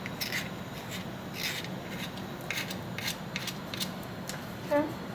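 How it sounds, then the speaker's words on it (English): Excess wax scraped off a dental occlusion rim, a series of close, soft rasping strokes in an uneven rhythm, each a short gritty scrape, ending with a brief sharper tick. "See how easy it is just to scrape all that out?"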